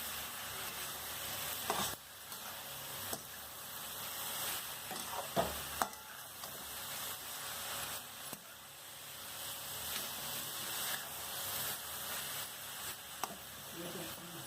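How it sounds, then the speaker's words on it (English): Cabbage and beetroot sabji frying in a pan, with a continuous sizzle and occasional stirring scrapes and knocks, close and moderately loud. "Stir it well."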